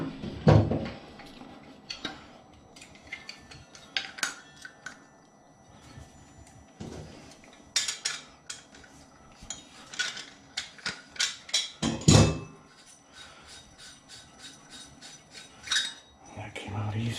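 Wrenches work loose the handle stem on a Gerber three-handle faucet, giving scattered metallic clinks, scrapes and clanks in irregular bursts with quiet gaps between them, close by and without speech.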